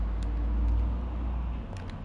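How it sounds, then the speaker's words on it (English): A car passes along the street outside a home, a low steady engine and road rumble rising and easing over two seconds, faint and muffled in the background. "There's a bloody car right outside."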